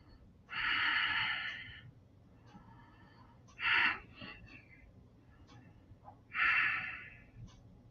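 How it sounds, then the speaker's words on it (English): Three slow, restful breaths taken during a morning wellness stretching routine, each a soft airy exhale of about a second, spaced a few seconds apart and heard alone without talk. "stop and take three restful breaths"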